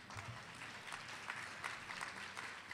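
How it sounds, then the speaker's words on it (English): Audience applause at the CHADD National Conference, a fairly faint, steady wash of clapping from a distant crowd that holds even throughout. "Let's have a round of applause"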